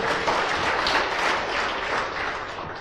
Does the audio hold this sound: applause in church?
yes